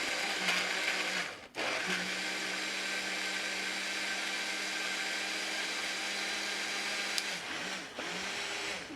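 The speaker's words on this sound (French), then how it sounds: "je vais me diriger au robot. Ça va faire un peu de bruit le temps de pulser tout ça pour obtenir notre smoothie" A kitchen blender pulsing a smoothie, loud whirring bursts with a brief stop between them, close and steady, with no talking.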